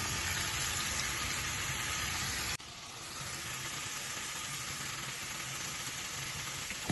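Potatoes and garlic fry in hot oil, giving a steady hiss and crackle that runs throughout. The sizzle drops slightly in level partway through and then carries on evenly, with no talking.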